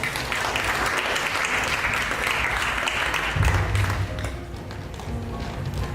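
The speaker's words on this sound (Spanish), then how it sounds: "Damos un fuerte aplauso al doctor Genaro Juárez Silva" Audience applause for a doctor introduced at a medical conference on musculoskeletal pathology, a steady dense roar of clapping filling the room at moderate loudness, with a few thumps partway through before it thins slightly toward the end.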